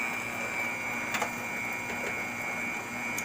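Electric stand mixer whipping cheesecake batter, a steady mechanical whir with a high constant tone and occasional brief clicks, running alone at moderate level with no talking.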